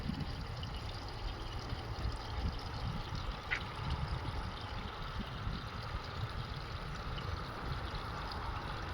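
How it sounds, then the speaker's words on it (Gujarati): Steady splashing stream of water pumped by a small 12-volt electric motor into a basin, an even, unbroken pouring wash heard up close, with no talking. "તો આ રીતનો કંઈક આનો મોટરનો ફ્લો છે"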